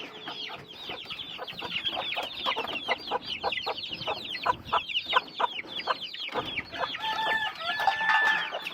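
Chickens clucking busily as hen chicks are let out of a coop, a dense run of close, repeated clucks and chirps with a crowing note near the end, no voices over it.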